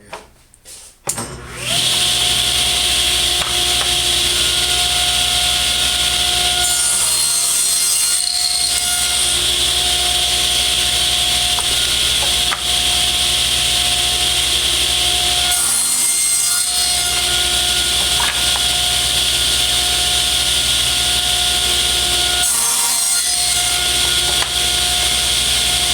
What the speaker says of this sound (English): Now I'm going to cut that angle